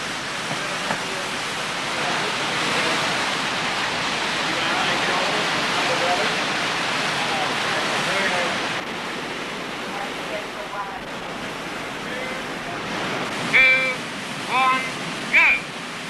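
Raging rapids on the Nymboida canoe course rush in a dense, steady roar of white water that fills most of the stretch before easing, with a few brief sharper sounds near the end.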